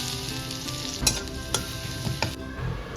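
Grated garlic frying in a little refined oil in a wok: a steady close sizzle runs throughout, broken by a few sharp clinks of a spoon against the pan, with no talking.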